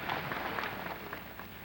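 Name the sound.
audience applause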